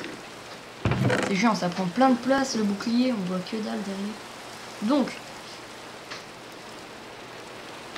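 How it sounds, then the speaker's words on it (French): Rain falls in the Minecraft video game, a soft steady hiss running throughout beneath someone talking in French for most of the stretch. "Cette foutue pluie, c'est chiant."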